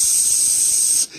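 A steady, loud spray hiss of weed being sprayed, continuous for about a second before cutting off abruptly, with no talk over it.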